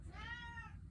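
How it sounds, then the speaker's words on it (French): A house cat lets out a single drawn-out meow, clear and close, rising and falling over a low background rumble. "c'est un de mes chats qui décide de venir me jaser ça"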